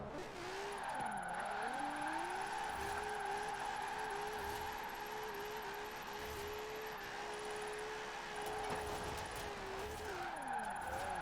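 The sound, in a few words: Nissan 370Z tyres skidding while drifting in video game Forza Horizon 4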